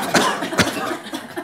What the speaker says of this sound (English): cough a few times.